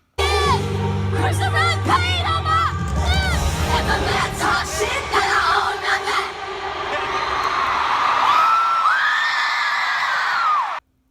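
A loud crowd screams and shrieks continuously at a stadium tour concert, high voices rising and wailing together at full volume.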